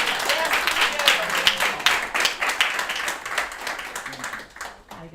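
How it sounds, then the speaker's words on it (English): Audience applause at a jazz festival event, a dense, steady clapping from a sizable crowd that carries on for several seconds and then fades, with some voices mixed in. "You want to give him an applause?"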